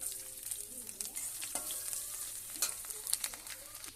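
Garlic hitting hot oil already holding cumin, bay leaf, dried chillies and whole garam masala for a lentil dish with catla fish head, giving a steady close sizzle with light stirring scrapes.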